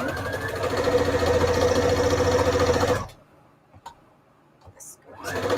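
A sewing machine stitching a fabric journal cover whirs steadily and close for about three seconds, then stops, leaving near silence with a few faint ticks before the motor starts again.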